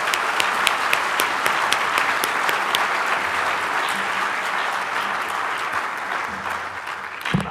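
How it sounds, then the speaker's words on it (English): Steady, dense applause from a ceremony audience celebrating nursing students at a stethoscope and commitment ceremony, loud and sustained throughout with sharp individual claps standing out near the start. "Audience, let's give our first round of applause to our students."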